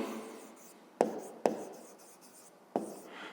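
Pen writing numbers on paper during a 5th grade maths lesson, a soft close scratching broken by three sharp taps as the pen strikes the page.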